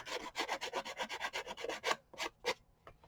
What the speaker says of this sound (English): I went along with the sandpaper to trim it off.